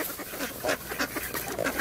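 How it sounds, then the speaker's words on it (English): Hungry ducks quack in a quick run of short, nasal calls, several overlapping bursts at close range with no talking. "So the ducks are very hungry."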